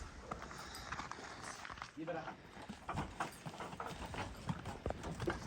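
A well-trained working mare clip-clops along at an even pace, her hoofbeats close and clear under people talking.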